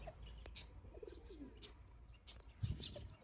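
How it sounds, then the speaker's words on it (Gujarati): A black pigeon coos softly and low in a quiet setting, overlaid by a few sharp, brief high chirps spaced about a second apart, all faint with no talking. "જો આપણા બ્લેક છે આપણા કબૂતર."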